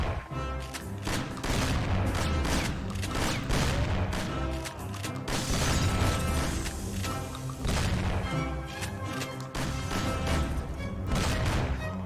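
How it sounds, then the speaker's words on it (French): Pump shotgun gunfire in the video game Mafia during a museum shootout, dense loud repeated blasts and booms layered with crashes and game music throughout, no clear speech. "Maintenant, on prend le pompe. Avec plus de munitions, ça devrait être du gâteau."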